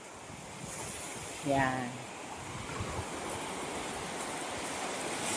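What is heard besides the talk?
ocean waves at high tide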